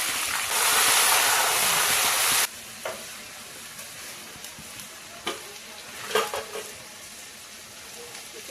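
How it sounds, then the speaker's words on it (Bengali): Spice paste with dried chili, bay leaf and cumin hits hot oil in a pan with a loud burst of sizzling, then settles into quieter frying with scattered spatula scrapes and knocks. "এবার মশলাটা কষাবো।"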